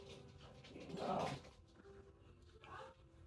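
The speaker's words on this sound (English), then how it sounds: "my grandparents' dog is like attacking my mom's dog for some reason" A dog whimpers and yips while attacking another dog, with one louder whining burst and a shorter one later, faint and somewhat distant in a quiet indoor background.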